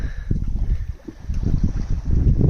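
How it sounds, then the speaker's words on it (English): Strong wind buffeting a sailboat offshore between Washington and California at sunrise, gusty low rumbling of wind on the microphone mixed with water sloshing against the hull, rising and falling in surges. "This is the most wind I've had in 24 hours"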